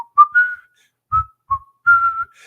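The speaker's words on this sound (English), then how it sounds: "You start whistling" Someone whistles a short, clear tune of sustained and brief notes with gaps between them, close and loud, with faint low thumps under a few notes.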